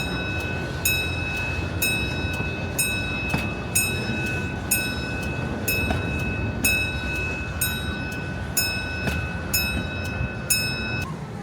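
Six Flags St. Louis amusement park train with a caboose rolling along, steady rumbling wheels with regular rhythmic clicks over rail joints and a faint high whine, close and continuous.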